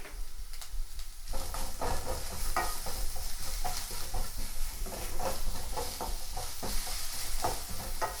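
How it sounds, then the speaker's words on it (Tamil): Sliced onions sauté in a pan for poori masala, a steady loud sizzle with repeated scraping stirs of a spatula throughout. "வெங்காயம் நல்லா ஒரு லைட் ப்ரௌன் கலர் ஆகிற வரைக்கும் வதக்கிடுங்க"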